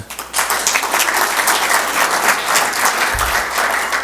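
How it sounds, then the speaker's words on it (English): A crowd applauds loudly and steadily, with dense clapping that continues throughout. "you guys also deserve a round of applause for that"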